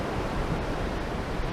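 Ocean waves break on a beach on Haida Gwaii's north shore, a loud, continuous roaring wash of surf with some wind buffeting the microphone and no voices.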